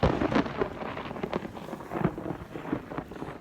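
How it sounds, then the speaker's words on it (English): A rumbling thunderclap rolls across an outdoor pool area, with rain and wind noise buffeting the microphone; the low roar swells and fades in uneven surges with no voices. "Let's just say that thunderclap just cleared the pool out too."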